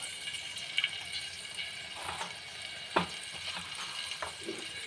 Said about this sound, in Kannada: ಒಂದು ಬಾಣಲೆಯಲ್ಲಿ ಒಗ್ಗರಣೆ ರೆಡಿ ಮಾಡಬೇಕು ಎಣ್ಣೆ ಸಾಸಿವೆ ಕಾಳು